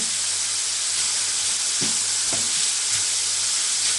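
Finely chopped onions sizzle in oil in a pan for a chicken chettinad, a loud, steady broadband hiss, with a few soft spatula scrapes and taps over the constant frying.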